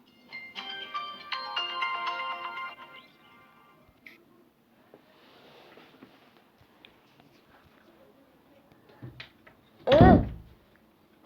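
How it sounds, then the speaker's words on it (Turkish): A bright electronic doorbell chime in the horror video game Granny rings out, then quiet shuffling and clicks, followed by a single loud buzzing tone near the end. "Lan zil çaldı"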